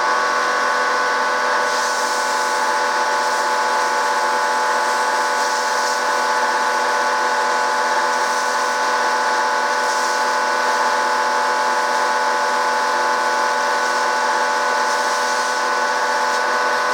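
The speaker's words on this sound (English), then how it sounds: "So the first thing you do is use the belt sander" A belt sander grinds a stainless steel wire to a point, a loud, continuous motor hum with a harsh abrasive hiss that holds steady throughout, with no talking.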